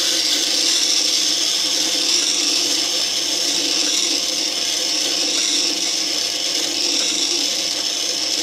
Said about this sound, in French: Là, je peux meuler pendant des heures et des heures. Je ne risque pas de brûler mon ciseau à bois.